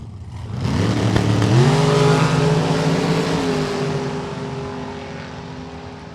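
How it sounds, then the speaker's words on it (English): Drag race launch at a Friday World Super Pro Challenge event: a dragster and a 1966 Chevy II roar off together, engines rising in pitch and then holding a loud, steady drone that slowly fades as they run down the strip. "Greg Vandersloot out of Kalamazoo in the dragster, FTI performance lane."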